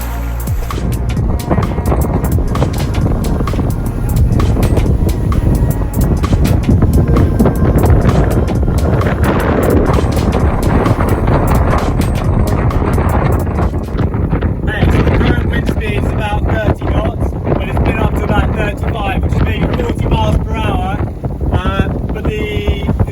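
A sailboat motors at about 4.5 knots through small waves off Crete toward mainland Greece, with a loud, steady rush of wind buffeting the microphone over the engine and water noise throughout.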